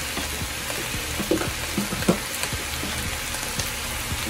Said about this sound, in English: And now I'm adding some garlic. This is some minced garlic from a jar that I'm using